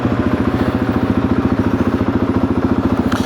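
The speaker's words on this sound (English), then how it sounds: "And I decided on the DRZ 400." A Suzuki DRZ 400 motorcycle engine idles close by with a steady, rapid, even thumping pulse that holds a constant loud rhythm throughout.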